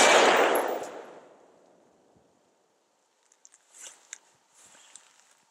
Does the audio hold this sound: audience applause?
no